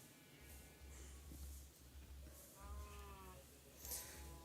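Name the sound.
sheep bleating in the video game Minecraft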